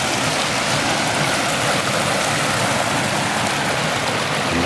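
Clear mountain water flowing at Puritama near San Pedro de Atacama, a steady broadband rush and babble that holds even and close for the whole stretch, with no voices.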